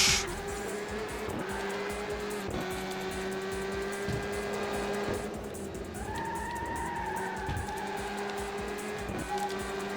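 Race car in the Le Mans 24 Hours video game on PS2 braking hard, a continuous loud engine drone with tire squeal and whining tones shifting over ten seconds, no talk.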